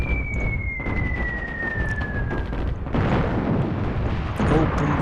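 Artillery fire in the WWII strategy game Attack at Dawn: North Africa, a dense, continuous rumble of distant booms and explosions with a falling whistle over it.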